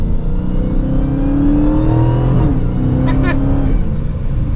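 A Dodge Charger SRT Hellcat Widebody rounds a turn at modest speed, its engine a steady loud rumble heard from inside the car, with brief rising whines as it pulls through the bend.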